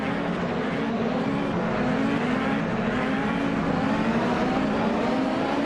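Race car engines from a racing video game, including a 1995 Penske PC23, drone steadily at close range with a sustained, continuous tone that rises and falls slightly, loud and alone with no talking.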